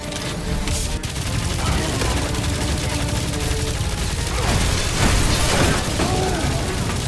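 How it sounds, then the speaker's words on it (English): Loud, constant flak and gunfire fill a battle in the video game Guardians of the Galaxy, with booming blasts and mechanical clatter running nonstop under voices. "Sounds like a lot of flark and gunfire!"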